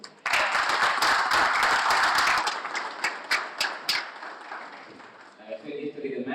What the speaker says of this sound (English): So we please have a round of applause for him.